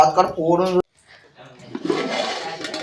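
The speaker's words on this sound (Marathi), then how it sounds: "आता याच्यामध्ये पाणी टाकायचं ना, शिजायला ठेवायचे." Water is poured into a cooking pot holding kokum for a fish curry, a gushing, splashing pour of about a second that follows a woman's speech and stands alone, fairly loud and close.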